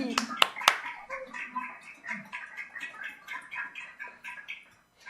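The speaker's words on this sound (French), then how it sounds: "J'espère que je vous explose pas les oreilles à chaque fois que j'applaudis" Hands clapping close to the microphone at a French D4 championship final, a few sharp loud claps at the start followed by a chattering voice and bird-like squeaks.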